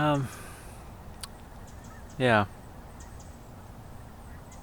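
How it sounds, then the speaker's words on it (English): Migrating geese honk in the open air near a mountain range, two loud distinct honks a couple of seconds apart with faint quieter calls between, no talk over them. "I can hear some geese or something migrating"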